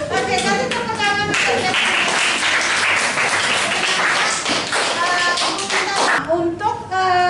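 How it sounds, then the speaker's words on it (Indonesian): Classroom of children clapping together on a teacher's cue, a dense burst of hand claps running most of the way with voices of kids and the teacher mixed in near the end. "kasih tepuk tangan"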